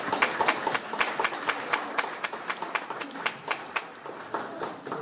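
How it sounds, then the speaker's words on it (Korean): An audience at a political party event claps in strong, rhythmic unison, with steady evenly spaced beats continuing throughout at fairly close range and no talk over it. "귀한 말씀 주신 권성동 원내대표님께 다시 한번 큰 박수 부탁드립니다."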